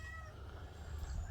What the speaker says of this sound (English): How did you survive, Zombie Cat?